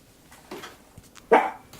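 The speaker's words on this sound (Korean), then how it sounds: "아이 또 짖는다. 하지마." A small indoor dog gives soft whimpers, then one sharp, loud bark near the end of the clip, against a quiet background while construction work goes on nearby.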